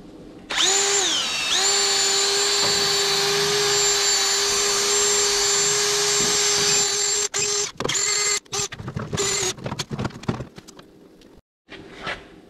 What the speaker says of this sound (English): I'll get a wire wheel and we'll get that cleaned up